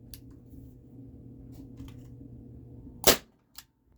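A single sharp shot from a gun fed by a Lancer Defense Scorpion magazine rings out over a low steady hum, followed half a second later by a fainter, shorter knock.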